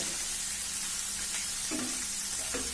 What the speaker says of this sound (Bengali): উল্টাই দিচ্ছি এগুলোকে, এপাশ ওপাশ দুপাশ ভালোভাবে ভাজতে হবে